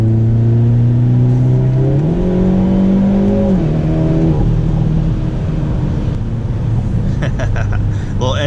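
Loud in-cabin engine drone of a 2022 Hyundai Elantra N accelerating on a wet road, pitch climbing through gears with a shift step, while someone talks over it; wet tire hiss shows near the end.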